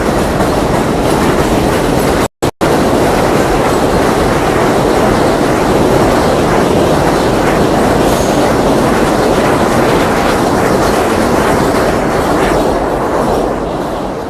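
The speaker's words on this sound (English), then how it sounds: "there goes a train" A train rumbles past nearby in New York, a loud steady roar of wheels and rail clatter that fills the whole stretch without letup.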